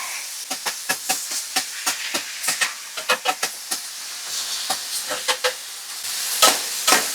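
Vegetables hitting a hot pan sizzle and hiss in a home kitchen, with a run of repeated sharp crackling bursts over a continuous steamy hiss, close and fairly loud, with no voices.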